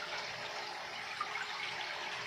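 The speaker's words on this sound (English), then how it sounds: "So a 40-gallon water change." Steady broadband rush of water running during a 40-gallon aquarium water change, a continuous even flow with no breaks, moderately quiet and heard alone.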